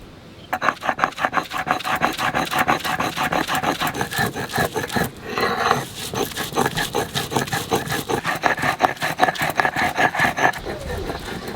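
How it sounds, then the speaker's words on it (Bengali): Raw taro and coconut ground into paste on a grinding stone, a loud, steady back-and-forth rubbing rasp in quick regular strokes, close up and continuous with a brief pause midway. "সর্ষে আর পোস্ত বেটে নিয়েছি, এখন কচু আর নারকেলটা একসাথে দিয়ে দেবো।"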